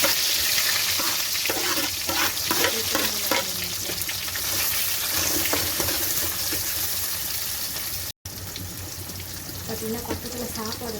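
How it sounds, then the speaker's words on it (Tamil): Chopped onions fry in a pan with a continuous close, hissing sizzle and intermittent stirring scrapes. A soft voice is heard faintly beneath the cooking. "வெங்காயம் வதங்கிட்டு இருக்குங்க."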